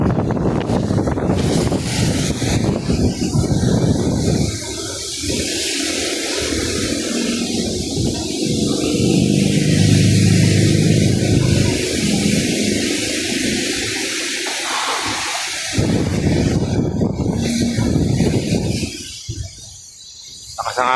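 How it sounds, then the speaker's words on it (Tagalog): Strong typhoon wind roars across Manila Bay with heavy, continuous buffeting against the microphone, mixed with rushing water and surf, loud and steady throughout, easing near the end. "Lakas ang hangin, nabungkal yung bagyo"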